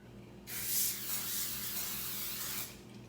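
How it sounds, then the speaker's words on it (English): A single continuous hiss of canola oil cooking spray from an aerosol can, lasting about two seconds, close up and alone. "Let's do a little canola spray just to not risk anything sticking."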